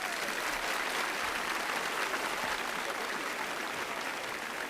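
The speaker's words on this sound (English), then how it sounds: "Big round of applause for Brother Dill" Sustained applause from a live audience at a tech livestream session on Matchbox shaders, a dense steady wash of clapping filling the whole stretch without speech.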